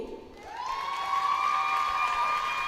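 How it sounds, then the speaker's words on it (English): Spectators applaud and cheer the Cook Islands captain at a Netball World Youth Cup 2025 match against Gibraltar. The clapping swells quickly into a steady, fairly distant ovation mixed with shrill cheers. "Great round of applause for Tia."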